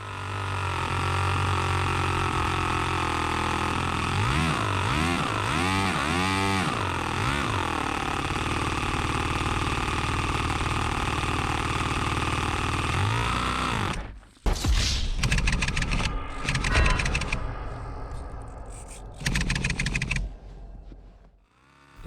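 A homemade engine runs steadily in a small vehicle, a loud mechanical drone with rising and falling whirring and gear noise that cuts out around fourteen seconds, followed by uneven bursts of clanking and revving.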